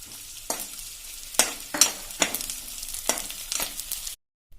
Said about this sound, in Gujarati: આપણે બીજો ગુંદ પણ તરી લેશું.